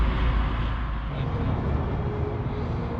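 Steady road traffic roar from passing vehicles outside a Harley-Davidson dealership, a continuous low rumble filling the background without pause.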